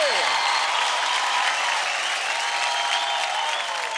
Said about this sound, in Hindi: फैंटास्टिक परफॉर्मेंस, जोरदार तालियां हो जाए